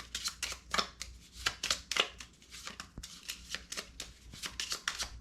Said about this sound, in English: Let's give this a little more of a shuffle